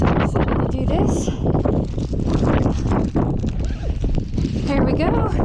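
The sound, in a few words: strong gusty wind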